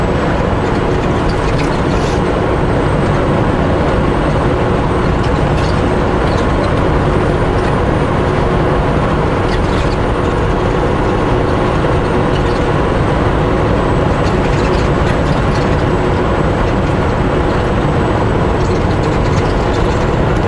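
A long freight train rolls past near Highway 14, heard from inside a truck: a steady, loud mechanical rumble with repetitive clanking and rattling of cars that continues unbroken for the whole stretch.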